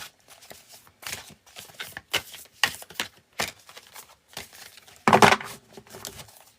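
Tarot cards riffle and slap in a string of quick crisp bursts, with one louder snap near the end; no one speaks.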